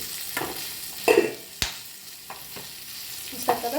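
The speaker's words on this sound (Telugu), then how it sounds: "చూసారు కదా, కట్ చేసినా పేలుతుంది." Cut green chillies spit and pop in hot oil for a mango coconut pachadi, with scattered sharp cracks over a soft sizzle, a few louder pops standing out near and alone.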